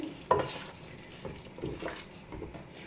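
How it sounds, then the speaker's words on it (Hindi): Chicken stock cube being stirred into a cooked masala in a pan, a few soft scraping stirs with light sizzling, close and quiet, with no talking. "और अब इसमें मैं शामिल करूँगी एक चिकन क्यूब और इसे मिक्स कर लूँगी"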